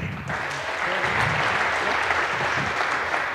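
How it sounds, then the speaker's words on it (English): A crowd applauds a speaker after a lightning talk at the SHA2017 hacker camp, a loud, dense wash of clapping that holds steady throughout. "Give Raphael a round of applause."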